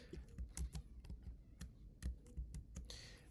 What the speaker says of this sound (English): Let's type in equation 2 now.